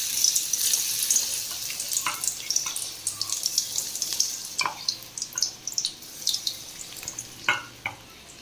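Soybean pakoras going into hot oil, a soft crackling fry with scattered light pops and splashes that grow busier toward the end, fairly quiet and without talk.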